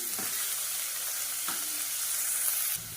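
Onions sizzle steadily in hot oil as they are sautéed in a pan for a green pea mutton keema curry, a continuous close frying hiss with a couple of brief stirring scrapes, no talking.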